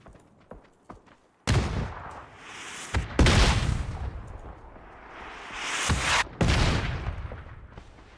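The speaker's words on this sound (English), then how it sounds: "Mortar!" Mortar fire in a video game pounds close by in several heavy blasts, each a sharp crack trailing into a long rumbling decay, spaced a couple of seconds apart after some light clicks.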